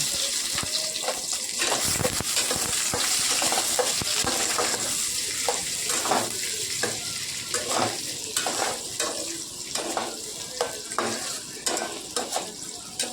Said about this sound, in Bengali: দেখুন তেলের মধ্যে আমি পেঁয়াজ কুচিটা দিয়ে দিচ্ছি। পেঁয়াজ কুচিটা দিয়ে ভালো করে আবারও একটু লাল লাল করে ভেজে নেব।